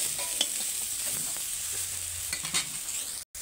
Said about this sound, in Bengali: এবার আমি সমস্ত সবজিটা ভালো করে নেড়ে নেব